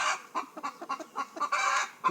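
Laying hens, some golden birds among them, cluck in a quick run of short, close calls with small gaps between, and no one speaks over them.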